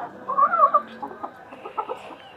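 Australorp and desi chickens cluck softly and irregularly, a few short calls close by with quiet gaps between them.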